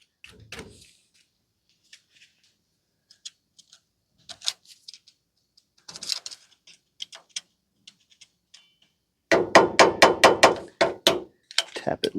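Tapping a stuck wheel nut loose on an antique Ford F350: scattered faint clinks at first, then a close run of about ten sharp, evenly spaced metallic taps near the end.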